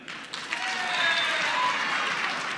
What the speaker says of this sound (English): Clap if you know who I am.